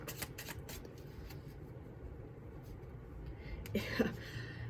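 Cards being shuffled in quick riffling bursts, soft and close, with a faint steady background hum.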